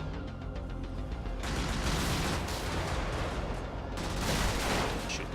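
Dense, sustained gunfire rattling through houses in the top-down mech game Brigador, a loud continuous fusillade with overlapping shots and crunching impacts, no talk.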